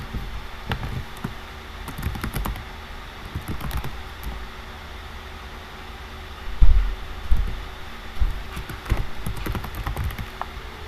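Computer keyboard typing goes on in irregular bursts of quiet clicks over a steady low room hum, with a few louder thumps partway through and no talking.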